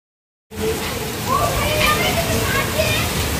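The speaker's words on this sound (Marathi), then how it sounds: "आज उन्हात पाऊस पडतोय" Rain falls in sunshine as a steady, full wash of patter that starts abruptly after a moment of silence, with voices faintly audible underneath.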